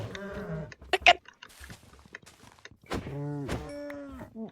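A Minecraft cow moos in drawn-out, wavering calls, one at the start and another near the end, with short thuds and clicks from gameplay between them.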